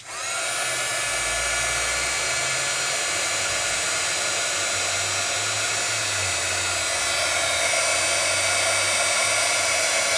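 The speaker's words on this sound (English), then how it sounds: "then you start to move your heat tool" A heat tool blows hot air steadily and loudly for the whole stretch, melting embossing on cardmaking work, with a constant whooshing roar and no talking.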